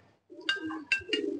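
Afsan silver aluminium pigeons give a close, clear cooing call, a short burst of throaty rolling coos in quick succession against a quiet background.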